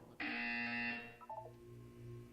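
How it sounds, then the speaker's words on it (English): A loud electronic buzzer in the video game Portal 2 sounds for about a second, followed by a few short beeping tones, then a low hum. "You will hear a buzzer."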